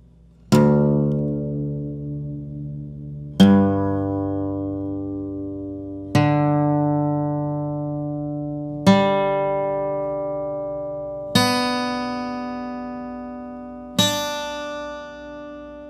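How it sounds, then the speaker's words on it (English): Slide guitar in open G tuning with its strings plucked one at a time, six separate ringing notes spaced evenly, each struck cleanly and left to decay, played alone and close. "I'm gonna go string by string so that you can hear the notes"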